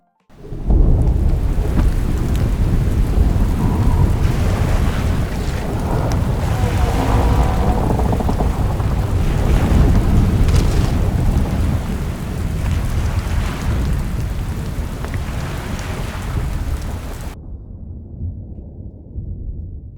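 A steady rain overlay with rolling thunder is laid over a rendered Blender Viking scene with fire, loud and continuous for most of the stretch before cutting to a quieter low rumble near the end.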